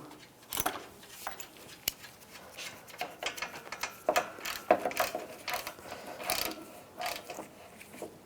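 A ratchet tightens a nut on the A/C condenser line of a 2008-2017 Buick Enclave, with quiet rapid clicking strokes in uneven bursts, close up and faint.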